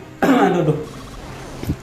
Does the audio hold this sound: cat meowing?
no